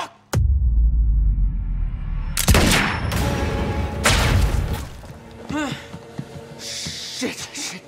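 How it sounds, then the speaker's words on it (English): Bursts of gunfire and heavy thuds in the underground parking area of the video game Quantum Break, loud and close, mixed with shouting voices and scattered impacts. "Gunfire in the underground parking."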